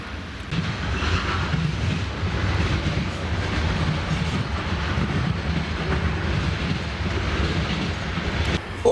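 A train passes nearby with a continuous loud, low rumble and rolling clatter that holds steady for nearly nine seconds, with no talking.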